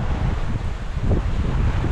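Wind blows by the Essequibo River near a village with a sandy beach and mango trees, a steady, loud rushing gust buffeting the microphone throughout.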